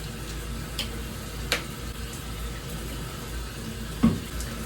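Water runs steadily while hair is rinsed, a soft continuous spray with a couple of faint splashes and knocks, fairly quiet and close.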